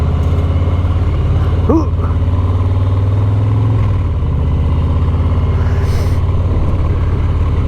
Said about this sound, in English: we're going to go explore around and see what kind of rich people we can bother with my loud bike.